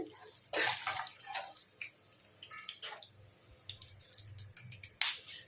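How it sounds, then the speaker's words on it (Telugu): Mustard seeds are added to hot oil for upma and sputter and pop in irregular crackling bursts, close and fairly quiet. "ఇప్పుడు ఒకసారి కొద్దిగా ఆవాలు వేసుకోండి."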